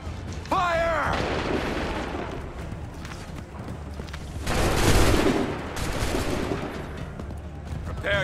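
Soldiers fire musket volleys in an Assassin's Creed III battle, loud rolling broadband blasts with one swelling barrage midway, alongside voices and a horse whinny near the start.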